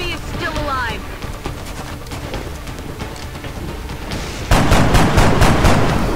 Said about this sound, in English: we hit him with the gun that still uses bullets